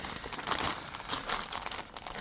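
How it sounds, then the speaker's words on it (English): Plastic bag crinkling in fast, irregular bursts, close and fairly quiet, with no voice over it, as a greeting card is handled inside its packaging. "Sorry, I should have taken this out of the plastic bag. Crinkle, crinkle, crinkle."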